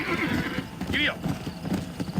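Horse hooves gallop in the video game Red Dead Redemption, a steady clip-clop rhythm throughout, with a short whinny about midway and voices in the background.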